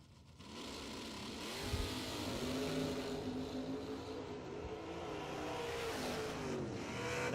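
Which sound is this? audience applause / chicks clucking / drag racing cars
drag racing cars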